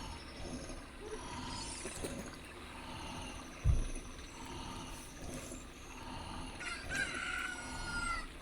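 A rooster crows in Zelda: Ocarina of Time, with clucking and game effects over a quiet, busy background. The short crows are faint and repeat near the end.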